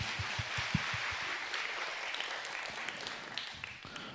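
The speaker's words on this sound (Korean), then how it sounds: "우리 찬양을 받으신 하나님께 다시 한번 박수의 영광도 올려드리겠습니다" A Sunday worship congregation in a Korean church gives applause, a soft, diffuse patter of many hands, fairly faint and steady, with a few low thumps early on.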